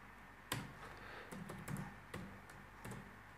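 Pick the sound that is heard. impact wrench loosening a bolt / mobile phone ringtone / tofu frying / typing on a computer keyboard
typing on a computer keyboard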